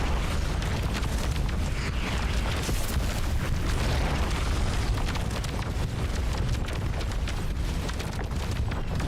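A dense, continuous roar of booming blasts from torpedo or flak missile explosions in the video game Sea of Stars, loud and sustained throughout with no talk.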